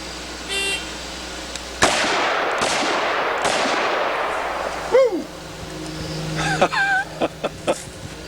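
Gunshots fired at a target at close range: three sharp, loud cracks in quick succession, each trailing a ringing decay, followed by scattered tonal beeps.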